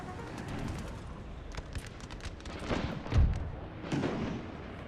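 Cannons fire in a video game battle as a string of booms and cracks, some distant and some closer, with a sharp heavy blast near the end among the scattered shots.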